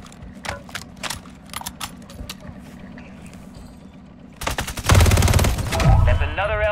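Rapid bursts of gunfire in Call of Duty Modern Warfare 3 Zombies, with sharp shots early, then a loud sustained volley of automatic fire and heavy effects near the end.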